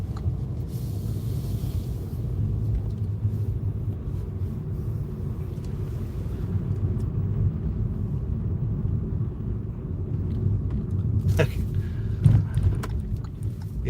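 A car drives along a parkway, its engine and road noise a steady, close low rumble throughout, with a few brief knocks or clicks near the end.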